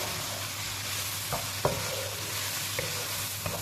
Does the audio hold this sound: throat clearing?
no